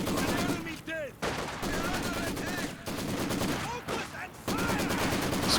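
A Maxim machine gun in Company of Heroes 2 fires sustained rapid bursts amid other battle gunfire, loud and steady, with a commentator talking over the shooting.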